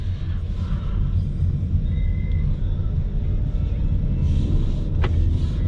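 A 2021 Ford Mustang with a 2.3-liter EcoBoost engine and six-speed manual gearbox, heard from inside while driving, gives a steady, dense low rumble throughout, with a brief faint click near the end.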